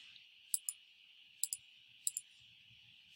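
A computer mouse clicks on images in a quiet room: three quick pairs of sharp, close clicks, evenly spaced, with a steady faint hum underneath and a final click at the end.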